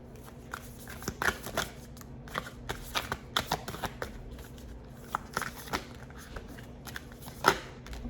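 Tarot cards are shuffled close up in quick irregular riffles and soft snaps, the bursts repeating through a quiet room.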